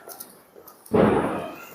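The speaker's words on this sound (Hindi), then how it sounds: "हमारी कोशिश है कि बस शगुन के लिए कुछ पटाखे फोड़े जाएं।" One Diwali firecracker bursts outdoors at night with a single sharp, loud boom that decays into a lingering rumble after a quiet moment.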